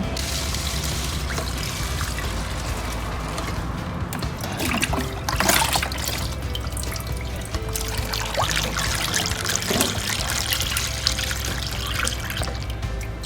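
Kaffir lime ferment liquid, aged six months, is scooped and poured into a storage bottle, a steady wet pouring and splashing that runs throughout with small clinks and bumps.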